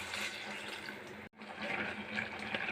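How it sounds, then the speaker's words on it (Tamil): Water poured into a bitter gourd stir-fry as it cooks in the pan makes a continuous splashing gush, close and fairly loud, broken by one brief pause partway through. No one speaks. "இப்போது தேவையான தண்ணி."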